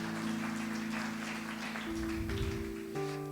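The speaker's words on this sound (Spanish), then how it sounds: "Dele usted un fuerte aplauso a nuestro Dios." A church congregation applauds in a soft, diffuse patter of clapping beneath sustained organ or keyboard chords, rather quiet and somewhat distant.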